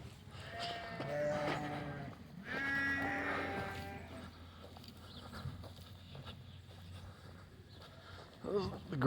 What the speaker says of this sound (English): Sheep feeding time again.